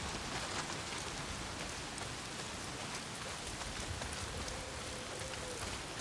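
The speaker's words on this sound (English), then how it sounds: "Well, not if it's pissing down rain." Heavy rain pours steadily in the open-world video game Days Gone, a dense, continuous hiss of drops on surfaces that stays even and close for the whole stretch, with no voices over it.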